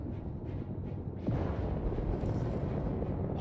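A ship blows up in the space combat game Star Citizen, a sudden deep boom about a second in that swells into a sustained rumbling roar over a quieter background hum.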